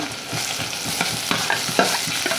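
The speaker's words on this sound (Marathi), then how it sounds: "आपल्याला चांगला गोल्डन ब्राऊन होईपर्यंत त्याच्यामध्ये फ्राय करायचं तेलामध्ये" Finely chopped onions crackle and sizzle loudly in hot oil, with quick scraping stirs of a spoon against the pan throughout.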